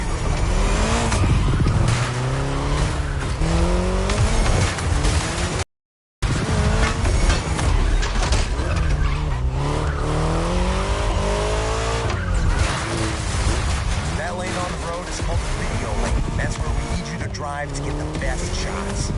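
Racing video game car with engine roaring and tires squealing through skids, loud and continuous, with a short dropout partway through.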